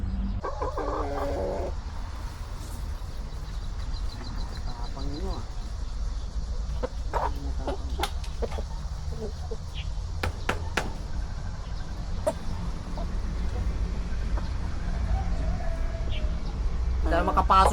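Chickens cluck intermittently nearby against a constant low outdoor rumble, with some scattered knocks and short sounds in between.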